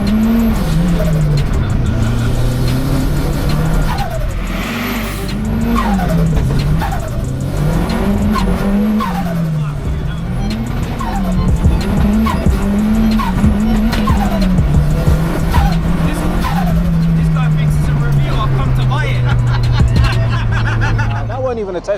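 A Ford Fiesta RS Turbo Mark III is driven hard, its engine note rising and falling through repeated gear changes with tyre squeal, loud and close over background crowd chatter.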